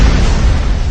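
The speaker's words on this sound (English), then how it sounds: "The street suddenly erupted in a series of small explosions" A burst of small explosions as an audiobook sound effect, a dense, loud, close rumble of booms filling the whole brief moment without talk.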